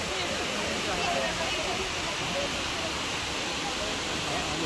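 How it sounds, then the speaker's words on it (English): A waterfall in Oregon pours onto rocks in a loud, continuous roar, heard up close as a dense, unbroken rush of water with no clear speech. "See the water like falling down and then like hitting the rock."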